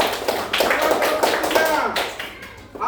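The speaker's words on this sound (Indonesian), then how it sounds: "Tepuk tangan untuk kelompok 2." In an Islamic religious education class, students give a round of applause for group 2. Rhythmic bursts of clapping come close and fairly loud, mixed with voices.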